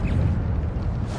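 An Incendio fire spell goes off in Hogwarts Legacy as a dense, low roaring whoosh of flame, loud and close, lasting about a second with no talking.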